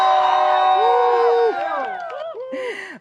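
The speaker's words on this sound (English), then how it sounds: "Let's give a big cheer and send it back to Danielle." A small morning-show studio group cheers and whoops together, a bright burst of mixed voices that thins into scattered shouts before a last quick flare.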